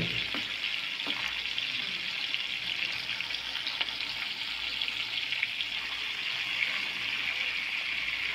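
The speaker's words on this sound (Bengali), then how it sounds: "তো এখন আমি মাছগুলোকে অল্প আঁচে ফ্রাই করে নিব হালকা করে।" Pangas fish pieces fry over low heat, giving a steady, moderate sizzle that holds evenly throughout without any talking.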